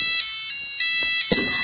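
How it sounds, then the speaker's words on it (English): A homemade Arduino alarm clock sounds its alarm, a loud, shrill electronic beeping that pulses in repeated bursts with no voices. "The alarm is alarming."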